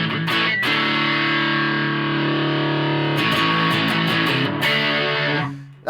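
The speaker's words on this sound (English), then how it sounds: "you can get more distorted, but it keeps the volume kind of similar" An electric guitar runs through a JHS 3 Series distortion pedal, playing thick, sustained distorted chords with steady loudness, a brief break near the start and rapid strummed accents in the second half, with no voices.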